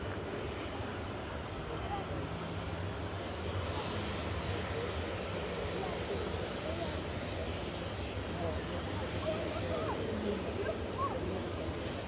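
A Boeing 737-800 airliner arriving at Manchester Airport from Alicante gives a steady, distant jet rumble that holds at an even loudness throughout, with some wind noise and a voice talking over it.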